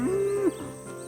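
An old cow in calving season gives one long, loud, close moo lasting about half a second, calling for her calf, followed by quiet background.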